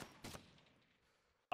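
Gunfire in the game DayZ: a couple of distant, faint shots echoing and fading away, followed by a sudden loud close crack at the very end.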